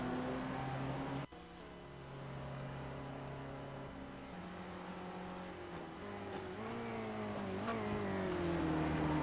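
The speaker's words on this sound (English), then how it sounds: "Car gets around, does a nice job of getting on the gas, does a little pirouette here." A race car in the iRacing video game at Sebring spins and then accelerates: a loud engine drone with rising and falling revs, one sharp break near the start and a gear change later, and no talk over it.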